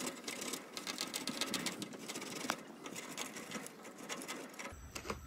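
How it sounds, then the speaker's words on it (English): A whole block of Parmigiano Reggiano is grated on a griddle setup for a chicken Alfredo sauce, giving a rapid, quiet, rhythmic rasping that continues steadily with no talking. "we're just going to grate this whole block of Parmigiano Reggiano right into the sauce."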